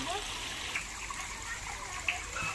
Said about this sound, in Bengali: চিংড়ি মাছটা পরিষ্কার করে ধুয়ে লবণ হলুদ মাখিয়ে